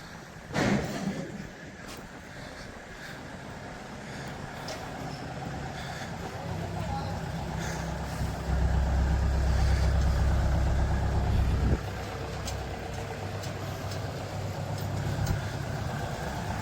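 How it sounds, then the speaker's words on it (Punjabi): Tractor engines idling and running steadily as the tractors are brought out on a Punjab farm, a continuous mid-distance rumble that swells louder partway through, with faint talk in the background. "ਟਰੈਕਟਰ ਕੱਢੇ ਆ ਬਈ ਬਾਹਰ"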